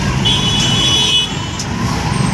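An ambulance siren in a traffic jam, a high wailing tone sounding over the rumble of nearby vehicle engines, fairly close and loud for a couple of seconds.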